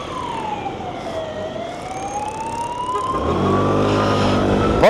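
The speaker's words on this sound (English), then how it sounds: "This is a moment when we have to punch it to actually make proper room for the ambulance." An ambulance siren wails through traffic in the snow, its pitch sweeping down then up, under steady road and engine rumble that swells louder as the vehicle accelerates.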